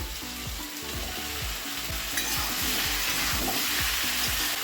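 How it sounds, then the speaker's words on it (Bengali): Pointed gourd, ridge gourd, pumpkin and eggplant frying in a pan, a loud continuous sizzle broken by repeated rhythmic scraping stirs of a spatula. "এই সবজিগুলো আমার ফ্রাই হচ্ছে"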